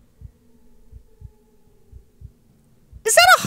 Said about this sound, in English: Is that a heartbeat?